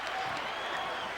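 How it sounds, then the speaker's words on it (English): Dense crowd roar and applause fill a basketball arena during a 1984 NBA playoff game between the Lakers and the Mavericks, a steady wash of sound with no gaps throughout the short moment. "now the crowd is starting to pick it up again"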